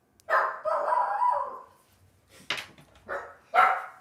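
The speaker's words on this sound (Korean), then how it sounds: "잠깐만요. 강아지 좀 데리고 올게요." A dog barks several times indoors during a live stream, loud and close, with a long first outburst followed by a few shorter separate barks and brief gaps between them.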